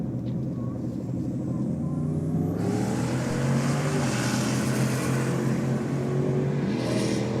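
A V8-powered Nissan Sylvia drag car makes a pass at Sydney Dragway, its engine roaring loud and rising in pitch through the gears, with a sudden surge of broadband blare partway through.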